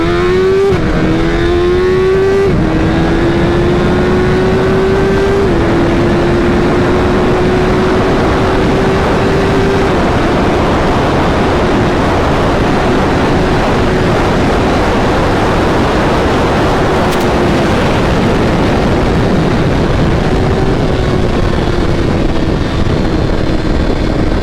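A tuned 2022 Suzuki Hayabusa with a BT Moto Stage 1 flash and velocity stacks pulls hard from 60 to 130, its loud engine climbing through gear changes under heavy wind roar.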